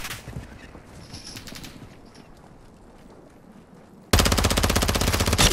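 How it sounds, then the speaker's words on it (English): Rapid automatic gunfire from Call of Duty: Modern Warfare II, first faint scattered shots in the distance, then a loud, sustained burst of machine-gun fire up close for the last second and a half. "Oh, I'm getting shot from above."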